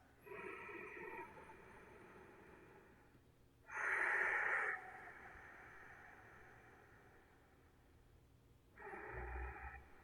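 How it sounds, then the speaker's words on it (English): Slow ujjayi breaths drawn through the nose, soft and airy with a gentle throaty hiss, in long separate strokes separated by quiet pauses. "see if you could find your ujjayi breath"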